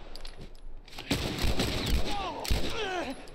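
Gunfire in The Last of Us while leaving the Suburbs: a few loud, close shots and bursts ring out after a quieter start, with brief voice sounds between them.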